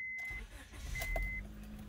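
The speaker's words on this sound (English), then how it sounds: "all that's left is starting the car, driving it around" A 2001–2005 Honda Civic engine runs steadily up close, a continuous low rumble with a faint high tone and a few light clicks over it, with no voices.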